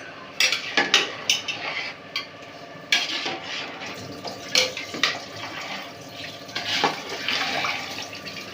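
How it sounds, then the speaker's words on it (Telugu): A spoon scrapes and clinks around a cooking pot while mushroom pulao is stirred, close up, in irregular bursts of metallic knocks and rustling over a low kitchen background. "ఇప్పుడు దీన్ని ఒకసారి కలుపుకోండి."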